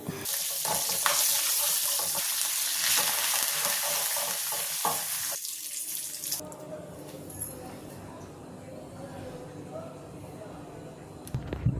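Pepper, cumin, cashews, ginger, curry leaves and asafoetida are tempered in hot oil for pongal, giving a loud, dense sizzle with stirring that later drops to a quieter, softer fry.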